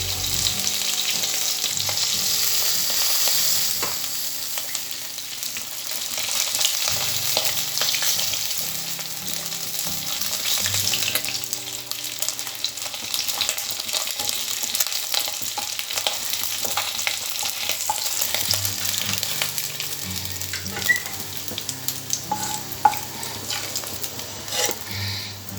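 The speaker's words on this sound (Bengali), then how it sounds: "মাছগুলো প্রায় ভাজা হয়ে গেছে" Fish frying in hot oil as it nears doneness, with a steady sizzle and crackle that carries on throughout, dotted with sharper pops and a few light clinks of a pan or utensil near the end.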